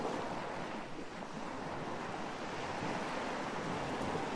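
Ocean waves wash steadily onto the shore in the video game ArmA 3, a continuous loud surf roar with windy rumble and no break across the whole stretch.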